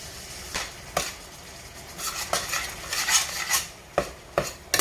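A utensil scrapes and clanks against a pan while seasoned beef burrito filling gets stirred together, giving a run of uneven knocks and rubbing strokes, close and moderately loud, with no talking.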